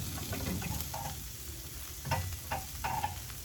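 Thick tomahawk ribeye steak sizzling on a grill, a constant close crackle and hiss of fat with a few brief louder spits and pops, no voices.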